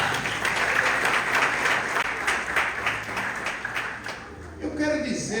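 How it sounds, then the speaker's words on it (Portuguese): A church congregation at a family service applauds loudly and steadily, a dense wash of clapping from many hands filling the room before it starts to fade. "Pode aplaudir o Eterno."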